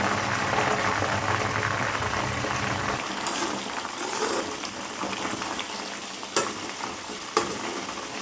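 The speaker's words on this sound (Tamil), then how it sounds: "கரிசலாங்கண்ணி கீரையை அரைக்காமல் தான் இப்போது எண்ணெயில் பாயில் பண்ண போகிறோம்" Karisalankanni greens cooking in hot oil give a steady, dense sizzle and bubbling that fills the whole stretch, loud and close, with a couple of brief clatters near the end.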